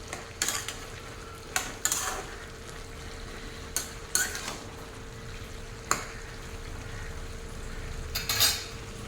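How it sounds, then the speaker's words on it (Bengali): A spoon stirs spinach, bottle gourd and prawns in a pan, with several distinct scraping strokes against the metal over a soft, low sizzle, spaced irregularly and heard up close without speech. "ভালো করে নাড়িয়ে একটু মিশিয়ে দেব।"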